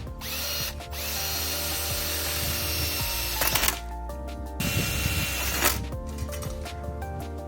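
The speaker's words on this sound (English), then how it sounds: "drilling the holes for the pop rivets here" A power drill whirs steadily and bites into metal, drilling holes for pop rivets on a caravan, its motor droning with brief surges as the bit breaks through, all close up with no talking.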